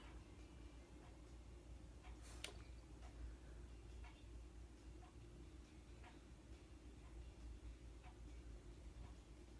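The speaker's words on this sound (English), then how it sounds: "You can hear my clock." Faint, steady ticking of a clock runs through a quiet room during a makeup session, with regular soft clicks over a low background hum and one brief sharper knock near the middle.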